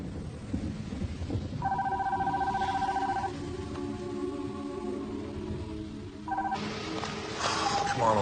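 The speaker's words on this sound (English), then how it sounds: "Come on, Elena, pick up the phone, will you?" A telephone call being placed in a drama film, with steady electronic dialing and ringing tones over a low rumbling background.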